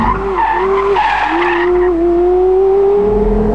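Tires of a Porsche Carrera GT skid as the rear slides out, a loud, sustained squeal that shifts pitch and then holds a long, steadily rising whine over a low engine rumble.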